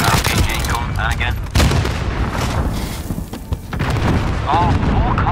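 RPG explosions and gunfire in the video game Call of Duty Modern Warfare, loud booms and bursts of shooting packed close together, with someone talking over parts of the action.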